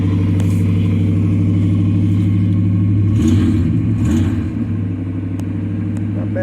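A 1994 Chevy Silverado truck idles loudly with a new exhaust fitted, a steady deep throaty rumble with a slight swell around the middle before settling back.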